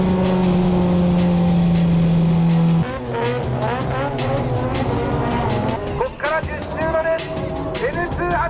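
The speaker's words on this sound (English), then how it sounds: "Tsuchiya's TRD Hachiroku is off to a good start" Race cars including a TRD Hachiroku launching into the final race of a grid event: a steady engine drone gives way to several engines revving and climbing through gears, with tire squeal and a commentator talking over the din.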